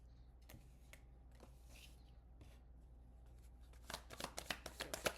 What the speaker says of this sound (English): We're gonna shuffle it one more time.